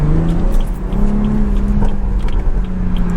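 A turbocharged BMW 340i drives along with a loud, steady engine drone and rumble heard from the cabin, holding a fairly even pitch throughout.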